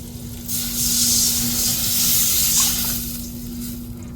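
Crushed garlic sautéing in hot oil in a pan gives off a steady, close sizzle and hiss that swells after the first half second and then eases off slightly toward the end, with no voices.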